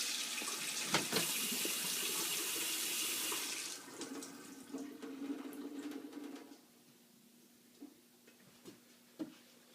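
A cold water tap opened fully, gushing loudly and steadily for about four seconds, then easing to a softer trickle before shutting off, with a few sharp ticks and knocks scattered through the quieter end.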